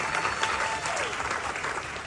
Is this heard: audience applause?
yes